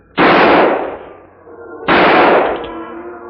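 Two loud gunshots in an old western radio drama, each a sharp blast with a long ringing decay, the second following about a second and a half after the first, with no talking.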